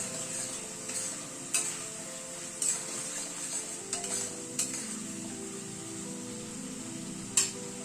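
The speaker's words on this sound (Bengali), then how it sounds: "মশলাটাকে কিন্তু গ্যাসের ফ্লেমটাকে মিডিয়ামে রেখে কষাচ্ছি" Spice masala with Kashmiri red chili powder frying in a pan over a medium gas flame, a steady close sizzle broken by several sharp spatula scrapes and clinks as it is stirred.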